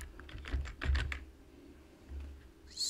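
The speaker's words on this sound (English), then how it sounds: "in this search tab we are going to type in the area of interest." A few short bursts of keystrokes tap on a computer keyboard as a place name is typed into the Google Earth Pro search box, quiet and close, with pauses between and no voices.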